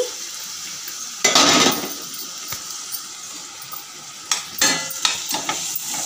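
Chopped onions sizzle in oil in a pan for a fenugreek leaf fry, with a loud burst of frying as they go in, then quieter hissing and occasional spoon scrapes and clinks.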